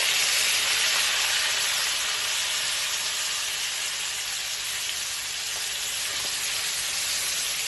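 Marinated chicken, marinated two hours beforehand, fries in hot oil with a steady, loud, close sizzle and hiss that holds throughout, with no talking.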